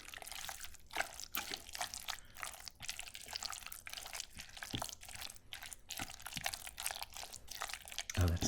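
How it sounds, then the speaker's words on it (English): Stirring Kewpie mayo into a seaweed teriyaki tuna mixture gives close, quiet, wet squelches and crinkly clicks in an irregular rhythm, with no talking. "Give that a little stir and we'll see if we need to add more."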